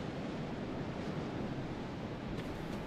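Ocean surf in the video game Dark Souls 2, a constant broad rushing wash of waves mixed with wind, steady and moderately quiet with no speech.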